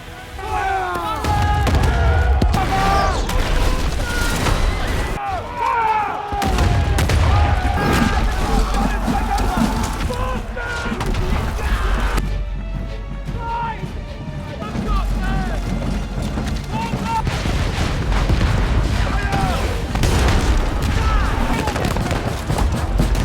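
Battle of Waterloo scene from the 2023 film Napoleon: dense, continuous musket fusillades and heavy cannon booms roll on throughout, loud and chaotic, with voices heard in the din.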